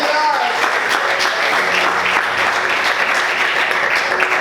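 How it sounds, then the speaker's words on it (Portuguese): A church congregation applauds loudly and steadily in praise during a worship service, a dense continuous wash of clapping with voices mixed in throughout. "Aplauda o Senhor bem forte."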